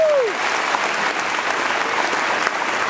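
Dense, steady applause from an audience honoring two high school players named to the Kentucky All-Star team, a continuous wash of many hands clapping at fairly even loudness throughout, with a brief whistle-like tone at the start.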